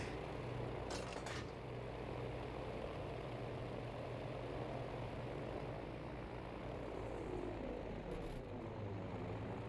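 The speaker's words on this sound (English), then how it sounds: "Yeah, there's definitely a plane behind us." A propeller plane's engine drones behind the player in a video game, a steady low hum with an even buzz that holds throughout, fairly prominent and uninterrupted.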